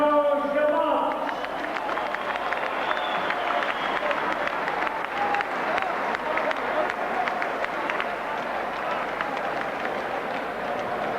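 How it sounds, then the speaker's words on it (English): Crowd applause and cheering at a professional boxing match, a dense roar of clapping filling the arena, with an announcer's voice heard over it at the start. "I'm sure you want to give a big round of applause."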